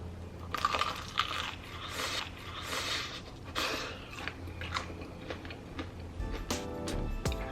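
Repeated crisp crunching bites into home-fried chicken coated in sauce, close and fairly loud, with chewing between bites and a faint clatter near the end.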